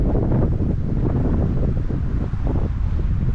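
Wind buffets a microphone outdoors on a wood pigeon hunt in Calabria, a loud, continuous low rumbling roar with gusty fluctuations and no voices.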